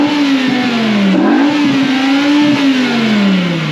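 A BMW E60 M5 from 2008 with its V10 engine revs hard in first gear, a loud, close, continuous howl that rises, dips briefly, then climbs again before easing off.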